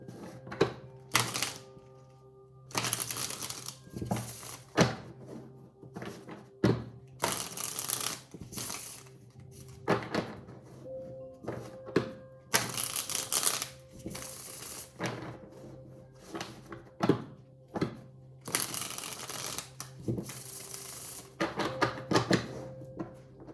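Repeated bursts of tarot cards being shuffled, crisp riffling flurries separated by short pauses, over a soft sustained musical background.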